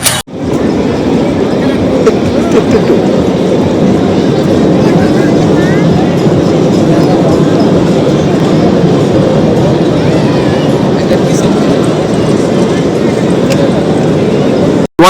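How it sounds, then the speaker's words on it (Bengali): An amusement park train at Dream Holiday Park, Narsingdi, Bangladesh, rumbles steadily the whole time, a loud continuous low roar with faint rhythmic clatter and no break. "বাড়ির পাশেই রয়েছে বুলেট ট্রেন"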